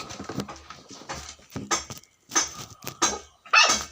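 A dog barks in a string of short, sharp yelps, close by and uneven in rhythm, with brief pauses between bursts.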